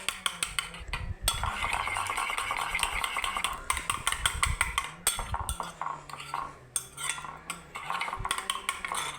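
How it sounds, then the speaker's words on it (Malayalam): Eggs seasoned with salt and ground pepper are beaten in a bowl with a utensil, giving a steady run of quick, close clinking and tapping strokes against the bowl with short pauses, and no talking. "എന്നിട്ട് നമുക്കിത് നന്നായിട്ടൊന്ന് ബീറ്റ് ചെയ്ത് കൊടുക്കാം."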